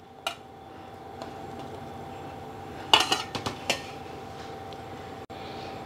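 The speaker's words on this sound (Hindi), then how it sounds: "अब हम यहाँ पे जो अंडे के ऑमलेट के पीसेस करके रखे थे वो डालेंगे।" Chopped egg omelette pieces are tipped into a pan and stirred, giving a few sharp metallic clinks and scrapes of a utensil against the cookware over a quiet background, with a short burst of clatter in the middle.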